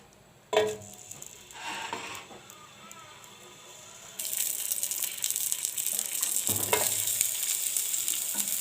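Onion rings drop into hot oil in a home kitchen pan while shrimp is being prepared. A few clinks and faint handling come first, then a loud, continuous sizzle bursts up and crackles steadily to the end.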